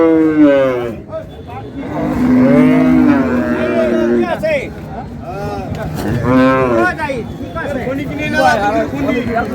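Dairy cows and calves moo loudly and repeatedly at the Ambari cattle market in Dinajpur, long bellowing calls overlapping close by amid traders' voices and general market babble.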